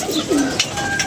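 Pigeons coo in short soft calls on a rooftop, close and clear, with faint background noise.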